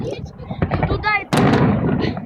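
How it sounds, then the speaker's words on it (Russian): Fireworks bursting over a bridge at a Victory Day salute in Voronezh, a series of sharp cracks and booms, with one loud blast near the middle, heard close with people talking over them. "Глянь, какой фейерверк. С моста, видишь, с моста."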